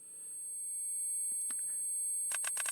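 A steady high-pitched ringing tone imitating tinnitus holds alone throughout, joined near the end by brief sharp clicks.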